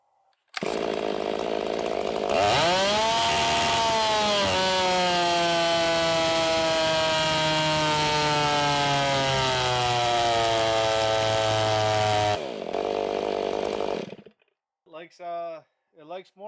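A fuel-injected Stihl 500i 85cc big bore chainsaw fitted with an opened, freer-flowing muffler outlet revs up loudly and holds a high, snarling scream for about ten seconds before dropping back to idle, followed by brief talk.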